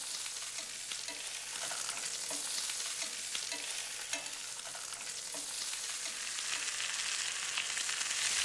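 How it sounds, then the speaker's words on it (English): Pork chops pan-roast with a steady, close sizzle throughout, joined by occasional light scrapes or clicks as they are moved in the pan; no one speaks. "that sizzling sound tells me that that pan is filling up with flavor"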